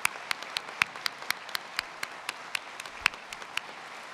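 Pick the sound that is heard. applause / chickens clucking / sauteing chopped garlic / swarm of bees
applause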